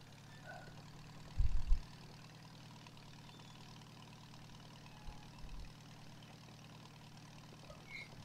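Video game tractor engine idling low and steady at a distance, with a couple of brief thumps rising above the drone.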